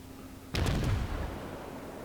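A single heavy salvo from the USS Pensacola's naval guns in World of Warships cracks out abruptly, its booming report rolling away and decaying over the next second and more, with no talk.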